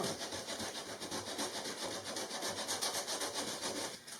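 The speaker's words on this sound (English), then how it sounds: "Now some hand sanding" Steady rhythmic rubbing of sandpaper on wood, close and continuous, with back-and-forth strokes repeating evenly throughout.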